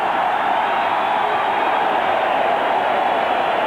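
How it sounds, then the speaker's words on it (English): Baseball stadium crowd at a 1984 Mets–Cubs game roars steadily after a great catch, a continuous, broad wash of cheering that holds at an even level throughout. "Listen to the crowd on his feet."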